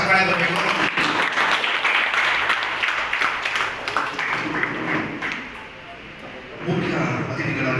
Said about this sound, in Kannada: ಇವರೆಲ್ಲರಿಗೂ ಜೋರಾಗಿ ಚಪ್ಪಾಳೆ ಬರಬೇಕು.